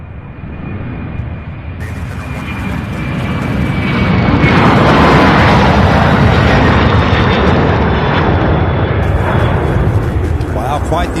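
Jet airliner taking off from Louisville International Airport with an early rotation, a loud broadband engine roar building steadily over several seconds and holding strong, with a faint whine above it.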